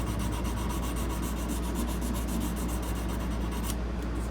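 600 grit sandpaper rubbing the fretboard of a 1937 Epiphone Triumph guitar, fast rhythmic back-and-forth scratching strokes, close and steady, alone.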